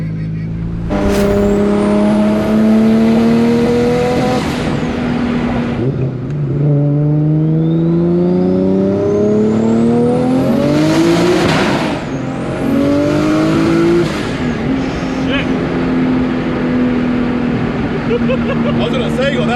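A tuned Nissan GTR R34 rated at 700 AWHP heard from inside while driving: a loud engine climbs in pitch through several gear pulls, with shifts, short drops and renewed rises, and people talk over the engine noise.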